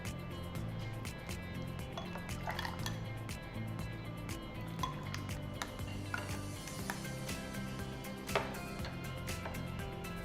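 Makhana (lotus seed) milkshake being poured into a glass, with light clinks of glassware and utensils scattered through a steady low kitchen hum.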